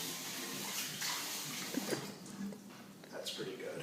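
Near-boiling water is poured out of a pot while making homemade mozzarella, a splashing gush into a sink or basin with someone talking over and around it.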